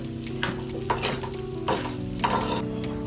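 Pieces of pork frying in hot oil for Goan sorpatel, with a steady close sizzle and several scraping stirs of a spoon across the pan; no one speaks.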